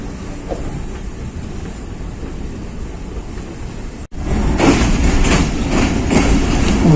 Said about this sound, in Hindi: डाउन बक्सा एक्सप्रेस मुकर्ररा टाइम पे जेहलम पहुंच रही है।